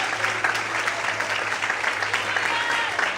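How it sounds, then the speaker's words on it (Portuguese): Congregation applauding during an evening church service, continuous dense clapping from many hands filling the hall at an even, sustained level. "glorifique e aplauda o Senhor nessa noite bem forte"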